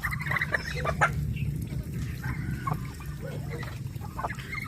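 Ducks quacking in short, repeated calls over a low steady hum, several birds close by at a feeding.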